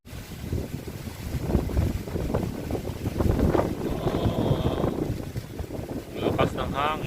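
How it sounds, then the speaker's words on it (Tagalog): Strong wind buffets the microphone in gusty, rumbling waves while people talk in the background and a faint high tone appears briefly. "Lakas ng hangin."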